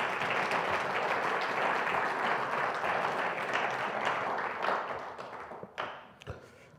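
Church congregation applause during a Spanish-language service: dense steady clapping that thins out and fades over the last couple of seconds, ending in a few scattered claps.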